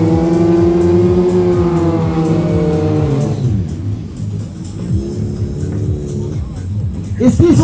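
A Kawasaki Z 1200 and a Suzuki GSX 1300 R Hayabusa roar in a quarter-mile drag race, their loud engines revving and rising in pitch before dropping back, with crowd voices and chatter underneath.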